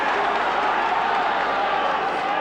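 Large stadium crowd of around 50,000 at a 1986 St Helens versus Australia rugby league match, a dense, steady roar filling the whole moment, with commentary faintly beneath.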